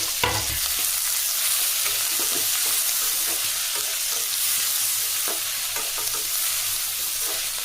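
Tomatoes frying in a pan for drumstick sambar, a dense close sizzle with stirring and a few scraping knocks of the spoon, steady throughout.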